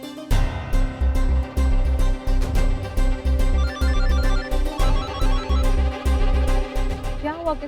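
A phone ringtone plays a repeating electronic melody, loud and close, pulsing in a steady rhythm for several seconds.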